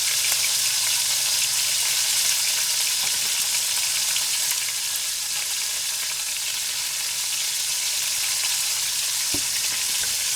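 A chuck roast browns in a pan with a loud, dense, continuous sizzle close up, a steady hiss with light crackle and occasional stirring scrapes throughout.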